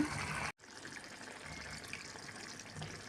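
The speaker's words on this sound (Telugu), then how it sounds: "ఇప్పుడైతే పులుసు వేసేద్దాం." Tamarind broth is poured into a simmering ladies finger curry, a soft continuous liquid rush that cuts off abruptly, then gives way to a quieter bubbling, sizzling wash close by.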